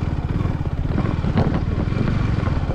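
A motorcycle is being parked at Ponmudi hill station in Kerala, its engine holding a steady, close, low idling rumble with a slight surge partway through.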